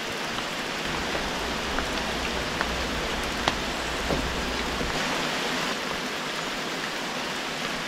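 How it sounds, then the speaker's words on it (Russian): Rain falling on the roof of a forest log cabin: a dense, steady hiss of drops with occasional louder individual taps, heard from indoors with no talking. "Дождик это хорошо, что пошел."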